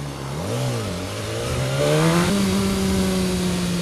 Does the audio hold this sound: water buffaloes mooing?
no